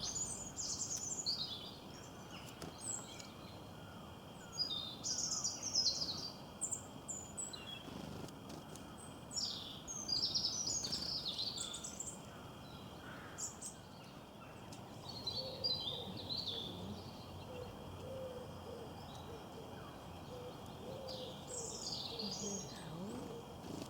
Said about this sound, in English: Now it's birds again.